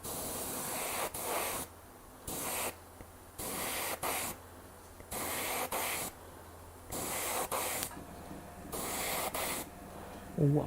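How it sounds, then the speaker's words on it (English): An airbrush sprays red paint in bursts of about a second, each a loud, airy hiss separated by short pauses, for around eight repetitions. No one speaks during the spraying. "alcohol to clean the airbrush. All right, let's see what this does."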